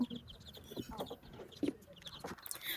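Older laying hens clucking nearby in short, irregular bursts, several birds calling over a quiet farmyard background during feeding.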